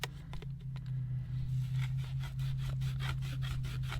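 A handsaw cuts through a piece of wood at a marked spot during a garden well irrigation install, giving steady back-and-forth rasping strokes, close and continuous, over a low steady hum.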